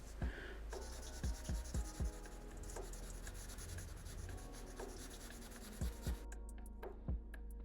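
A pencil scratches and rubs steadily across paper, coloring a dark black shadow area while drawing a Life is Strange character, with short rhythmic strokes running throughout, close and fairly quiet with no talking.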